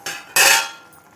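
A metal lid lifted off a pot of simmering kovakkai kuzhambu, giving two quick bright clanks close by, the second louder and ringing briefly before fading.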